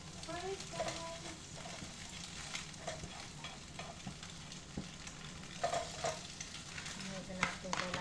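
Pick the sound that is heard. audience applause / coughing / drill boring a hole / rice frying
rice frying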